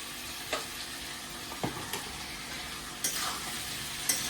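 Cumin and red chili paste fry in oil released from fish for a pui shak, pumpkin and fish roe chorchori, giving a fairly quiet, even sizzle. A few separate knocks of stirring break through it, and no one talks.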